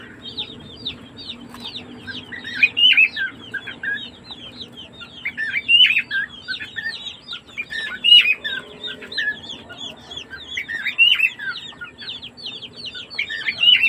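A flock of 45-day-old chicks clucks and chirps continuously in short, high repeated calls, busy and fairly close, with occasional wing flutters and no talking.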